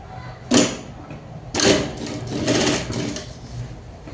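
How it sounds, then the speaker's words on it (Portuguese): Sewing machine stitching a large zippered bag slowly, running in short bursts with pauses between them, close and fairly loud with no talking. "Mas vem costurando devagar para poder ela ficar certinho."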